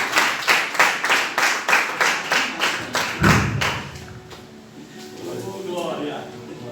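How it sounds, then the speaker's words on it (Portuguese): A church congregation claps in a steady unison rhythm, about a dozen beats, then the clapping fades away as voices continue. "Uma salva de palmas para Jesus."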